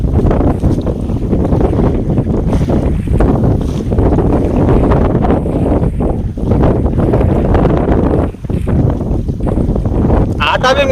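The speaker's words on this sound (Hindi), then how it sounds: "आटा भी मिलाने नहीं दे रही हवा" Strong wind buffets the microphone beside a river during rohu fishing, a loud continuous rumbling roar with gusty surges that never lets up.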